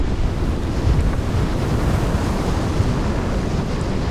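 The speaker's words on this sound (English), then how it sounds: "The wind and ocean state seemed to only deteriorate." Strong storm wind buffeting the microphone over heavy ocean waves at sea aboard a sailboat offshore, a loud continuous roar with gusts and wash, no voices.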